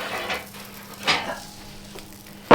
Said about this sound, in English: We think it's time to take the Yorkshire puddings out of the oven.